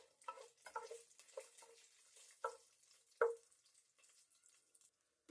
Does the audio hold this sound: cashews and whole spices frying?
yes